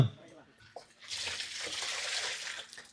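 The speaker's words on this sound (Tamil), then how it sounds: "கொஞ்சம் தண்ணி சேர்த்துட்டு கரைக்கலாமா" Water is poured into a mixture of cow dung and urine being made into a natural farm input, giving a rushing, splashing pour of about a second and a half after a few soft knocks.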